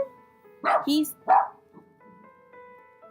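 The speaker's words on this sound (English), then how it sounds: "Sorry about the barking. It's my dogs." Dogs bark two or three times in quick, close yaps, partly over someone speaking and a steady background tone, then trail off into quieter sounds.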